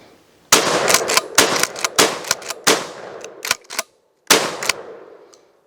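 A Real McCoy PAS 12 pump-action shotgun fired repeatedly: around a dozen loud, sharp blasts in quick, uneven succession, each followed by a short echo. A brief silent pause comes before a final shot and its fading decay.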